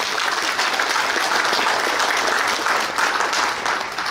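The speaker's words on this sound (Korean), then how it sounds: "큰 박수 부탁드립니다." Sustained applause from a large audience at a metalworkers' union delegates' meeting in Gyeongju, a dense, steady wash of clapping that holds at full strength throughout, with no voices on top.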